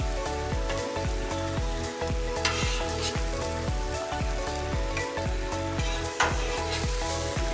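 Fruit, including mango and pineapple, sizzles and fries on a hot Blackstone griddle alongside a pancake, giving a loud, steady crackle close up with occasional scraping and stirring sounds and no talk.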